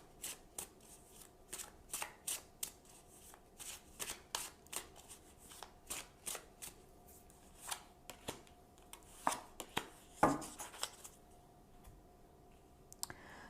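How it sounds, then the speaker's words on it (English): Tarot cards are shuffled and handled in a quiet room, a steady series of soft, close flicking and riffling clicks with one sharper slap near the end, no talking. "So now I'm going to choose 2 cards for possible outcome."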